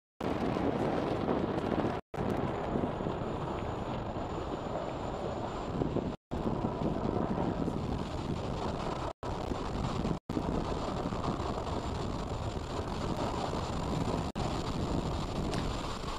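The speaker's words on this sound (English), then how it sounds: "Falcon 9 has successfully lifted off from Space Launch Complex 4 East, as you can hear on your screen" A SpaceX Falcon 9 rocket lifts off from Space Launch Complex 4 East and climbs, producing a steady, loud, dense roar that runs the whole time with a few brief dropouts and no voices.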